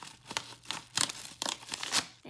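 Scissors snipping through a package during a makeup and hair care unboxing, several short crisp cuts with paper and plastic crinkling between them, close and fairly quiet.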